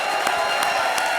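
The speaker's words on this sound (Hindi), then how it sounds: "क्या तालियां बजा रहे हो?" An audience at a stand-up comedy show bursts into steady applause and cheering, a dense, continuous wash of clapping that fills the room with no pauses.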